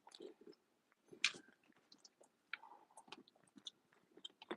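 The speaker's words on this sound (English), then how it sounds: "I am eating steak and yellow rice, what I was cooking earlier" Close, intermittent chewing and biting of steak and yellow rice, with wet mouth clicks and soft crunches in an irregular rhythm and no talking.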